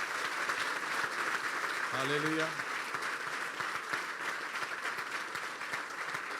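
Applause from a church congregation at a Christian sermon, steady broadband clapping through the whole stretch, with one voice briefly calling out partway through.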